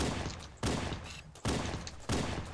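Weapon fire in Halo: Combat Evolved, a bursty rhythm of sharp gunfire volleys coming in several sudden onsets, each trailing off before the next.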